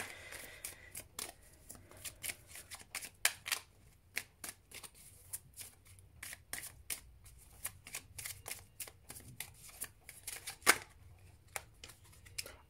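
Tarot cards are riffled and shuffled by hand for a nine-card reading, giving a quick run of crisp, papery flutters and snaps up close in a quiet room.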